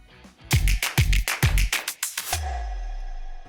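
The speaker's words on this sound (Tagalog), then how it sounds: "Attach the bit sa drill driver, then start drilling." A drill driver fitted with a 25mm Forstner bit boring holes in wood for a toolbox, heard as a loud, close run of short stuttering bursts that settle into a steady continuous whir.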